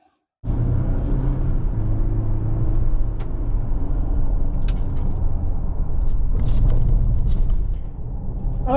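A 2025 Ford Ranger Lariat 4x4 in azure gray metallic driving on the road, heard from inside as a steady low engine and road rumble that starts abruptly and holds through, with a few faint clicks and no talking.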